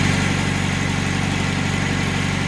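A 1968 VW Bus air-cooled engine idles steadily after warming up, a continuous low, even rumble with a fine rhythmic pulse, close and loud throughout with no voices.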